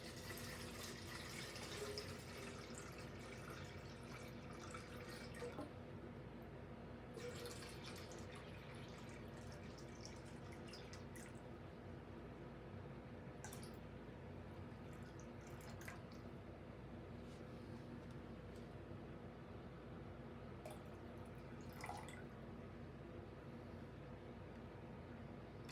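Distilled water is poured into the water jacket of a bomb calorimeter, a quiet, continuous trickling fill with faint drips and splashes, heard alone at low level.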